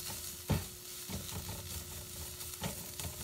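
Carrots stirred in a sizzling pan, a soft steady fry punctuated by a few distinct spoon scrapes and knocks against the pan, close and fairly quiet.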